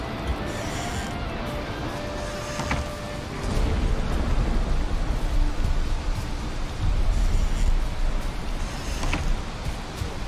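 Rain falling in the Valheim video game, a steady, broadband hiss that swells louder partway through, with scattered faint clicks and no talking.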